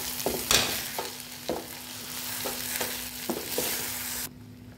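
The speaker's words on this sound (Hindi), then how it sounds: "ये सब ऐड करके मैं इसको अच्छे से मिक्स कर लूँगी।" A spoon stirs burger filling seasoned with pav bhaji masala, garam masala and salt in a pan, making repeated scraping strokes with a faint sizzle underneath, close up and without talk.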